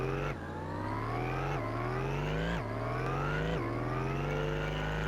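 A steady synthetic whine rises in pitch in repeated stepped sweeps, an electric-sounding car engine accelerating through gears in Rocket League, loud and continuous with no talking.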